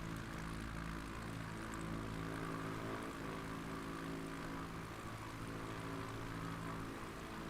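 A propeller plane takes off in a flight simulator game, its engine a steady, loud droning buzz with a constant propeller hum throughout and no talking.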